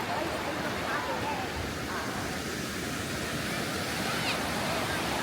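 Atlantic Ocean waves on a cold coast, heard as a steady, broad wash of surf that stays loud and even throughout with no distinct breaks.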